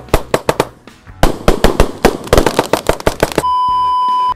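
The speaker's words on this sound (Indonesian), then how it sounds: "jadi mercon yang akan kita nyalakan malam ini, kita lihat bosku" A Roman candle fan-shape 49-shot fireworks cake fires a rapid series of loud, sharp cracking bursts nearby at night, then gives way to a steady electronic beep tone.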